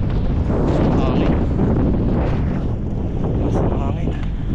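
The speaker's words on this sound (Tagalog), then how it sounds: "Mas hangin." Strong wind buffets the microphone while cycling outdoors at sunset along a road, producing a steady, loud rumbling roar throughout, with a person talking over it.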